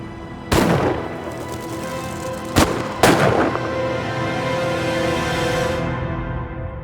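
Three loud gunshots ring out in a dramatized mob hit, the first alone and then two close together, each leaving a long, echoing decay.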